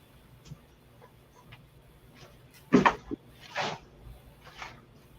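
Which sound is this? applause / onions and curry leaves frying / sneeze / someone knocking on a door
someone knocking on a door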